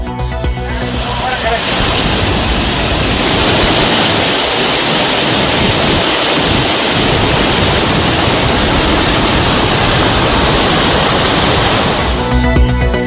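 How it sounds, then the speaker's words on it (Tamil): Kavi falls in flood, a heavy waterfall roaring as a steady, loud broadband rush that fills the whole stretch without pause. "கவி அருவியில் வெள்ளப்பெருக்கால் சுற்றுலா பயணிகள் குளிக்க தடை."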